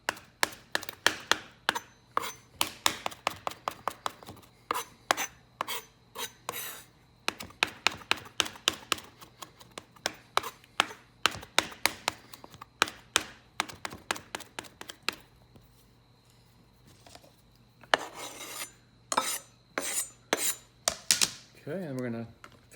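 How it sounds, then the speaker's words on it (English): Fresh tarragon being chopped with a knife on a cutting board, rapid bursts of sharp, close knife taps in quick rhythmic runs, a brief pause, then more chopping and a short scrape at the end. "I'm also going to chop up my tarragon."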